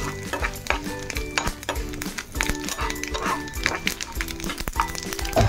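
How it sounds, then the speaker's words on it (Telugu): Curry leaves fry and sizzle in a pan for chutney, with steady crackling and occasional stirring scrapes throughout, over a busy background. "బాగా వేగనివ్వాలి."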